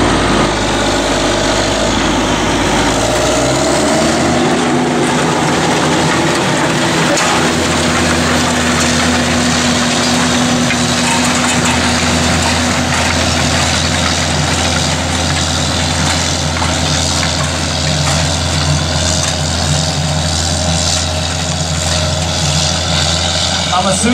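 A tractor pulling a Lemken Rubin disc harrow across a field at about seven miles an hour gives a loud, steady engine drone with a sustained mechanical hum that settles in after a few seconds, and voices come and go over it.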